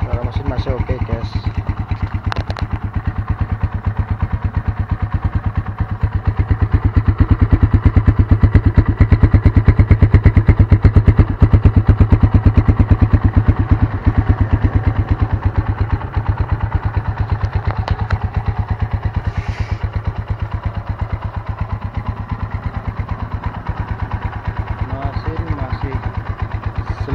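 A Yamaha Scorpio Z 225cc motorcycle engine idles steadily and loudly up close for the whole stretch, a constant mid-pitched rumble with slight swells in intensity.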